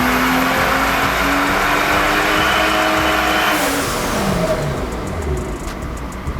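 A car's engine revs hard on a dyno in a rear-wheel-drive versus all-wheel-drive power test, a loud, sustained roar climbing in pitch and then dropping off as the run winds down, with no talking.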